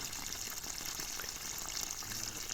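Canal water flowing and gushing steadily for irrigating trees, a continuous broadband rushing wash, fairly close, with no talk.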